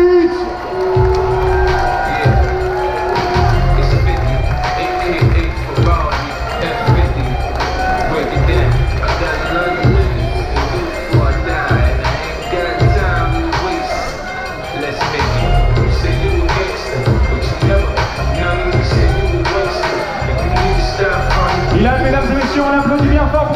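A crowd at a boxing night cheers, whoops and claps as a debutant fighter is introduced into the red corner. The noise is loud and sustained, full of scattered shouts.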